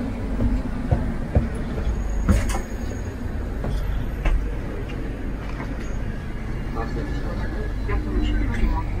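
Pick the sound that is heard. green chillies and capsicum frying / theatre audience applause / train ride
train ride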